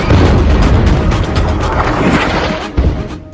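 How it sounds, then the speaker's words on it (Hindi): Artillery fire and explosions in wartime Gaza, with loud, dense rumbling booms and crackling blasts running continuously, plus a sharp closer burst near the end and no voices over it. "जमीन पर तोप से"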